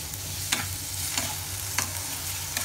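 Onions frying in a pan over a high flame, a loud steady sizzle with periodic stirring scrapes every second or so, close up.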